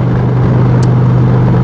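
Indian Challenger motorcycle V-twin running through stock mufflers, a steady low rumbling idle with a throbbing exhaust pulse, close and fairly loud, no voices.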